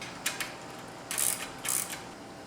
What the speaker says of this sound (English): Now I can do final assembly of the horizontal brackets and tighten the bolts firmly.